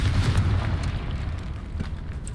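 Confringo blast spell going off in a Harry Potter video game, a dull rumbling boom with a noisy burst that fades over about two seconds, moderately loud with no voices.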